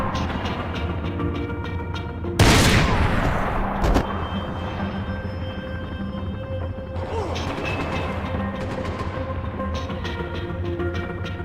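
Gunfire in the video game Max Payne 3: one loud, close blast of shots with a rumbling tail that fades over about a second and a half, set against a steady bed of in-game music and ambience.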